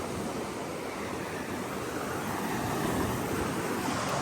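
Waves wash steadily against a rocky coral shoreline along a coastal walking path, a continuous broad surf roar with a soft wind-like hiss that swells slightly louder toward the end, no voices present.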